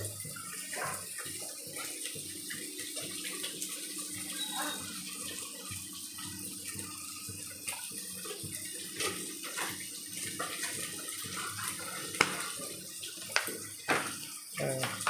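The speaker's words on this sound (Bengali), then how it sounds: "জল ভর্তি, কল বন্ধ করে দিয়েছি আমি" A running tap filling a container with water gives a steady, moderately faint gushing hiss throughout, with a few sharper splashes and knocks near the end.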